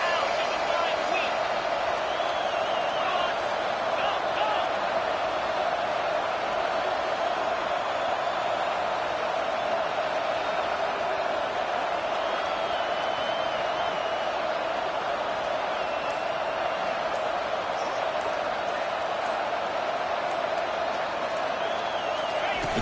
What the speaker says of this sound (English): The crowd is roaring, trying to help this defense on 4th down.